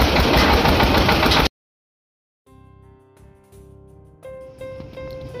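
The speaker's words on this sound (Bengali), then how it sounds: "একটু পরে আপনি ইঞ্জিনটাকে চালু করতে দেখতে পাবেন।" A five-fan rice threshing machine's engine roars loud and steady for about a second and a half, then cuts off abruptly into silence before quieter tonal sounds follow.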